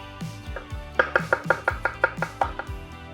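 Knife chopping fennel and vegetables on a board for a slaw, a run of about a dozen crisp, evenly spaced cuts, close and clear with no talk.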